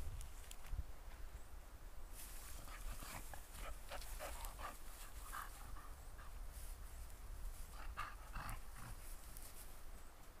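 Dogs move about nearby, with soft panting, snuffling and faint whimpers over a steady background hiss, no clear barking.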